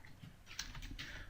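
Typing a command on a computer keyboard during a pentesting session, a quick burst of a few faint key taps, close but quiet, with no talking.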